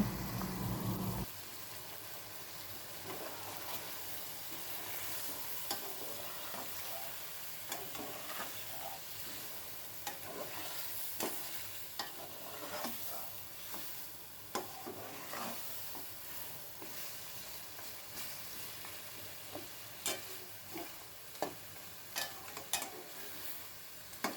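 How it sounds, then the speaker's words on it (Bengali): Meat with yogurt braises in a covered pot, giving a soft, continuous low sizzle with occasional stirring scrapes and light clinks throughout, quiet and unvoiced. "আবার নেড়েচেড়ে ভালো করে মিলিয়ে নিচ্ছি এখন ঢাকনা দিয়ে ঢেকে মাংসটাকে ভালো মতো কষিয়ে নিচ্ছি"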